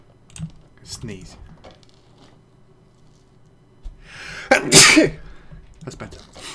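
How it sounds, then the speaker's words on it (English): A character sneezes once, loud and sharp, in the survival video game The Long Dark, following scattered keyboard clicks and soft speech in a quiet room. "Sneeze."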